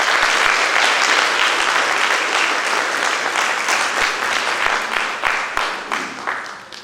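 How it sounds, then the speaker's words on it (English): Sustained audience applause fills the space after a Bharatanatyam arangetram performance, dense, loud clapping that holds steady, then thins and tapers off toward the end. "Let's give her another big round of applause."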